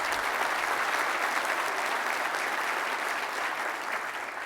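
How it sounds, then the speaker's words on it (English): A conference audience at a leadership event claps together in a dense, even burst of applause that stays full from start to finish, fading slightly only at the very end. "So round of applause to you guys."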